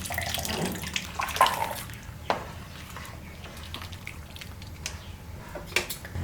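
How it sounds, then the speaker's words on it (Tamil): Strained tamarind water being poured into a pot of South Indian brinjal sambar, a soft trickling splash with occasional small drips and clinks, fairly faint and without talk. "இப்போ பார்த்தீங்கன்னா இதுக்கு தேவையான அளவுக்கு புளி ஊற்றிடலாம்"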